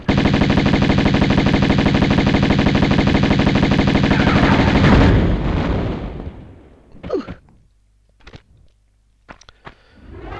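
Rapid Uzi gunfire in the PS1 game Tomb Raider, a loud continuous burst of evenly spaced shots for about five seconds, then fading echoes followed by a few quiet footsteps and clunks.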